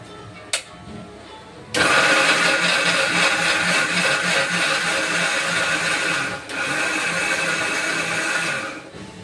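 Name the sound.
mixer grinder grinding roasted masala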